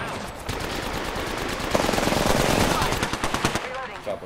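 Rapid automatic gunfire rattles in bursts from an Apex Legends match, moderately loud and continuous for several seconds, with faint voice chatter underneath.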